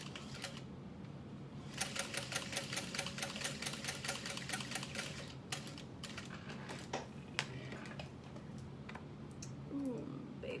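A sewing machine stitches along a folded strap for a bucket bag, whirring in a quick continuous patter that pauses briefly, quiet and near, with no voices.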